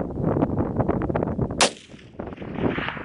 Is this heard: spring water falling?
no